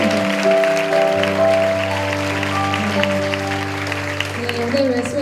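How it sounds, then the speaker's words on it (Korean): A church congregation at a Korean young adults' worship service claps together in sustained applause over steady sustained keyboard chords, the clapping dense and lively throughout. "다시 한번 주님의 영광의 박수를 드리겠습니다"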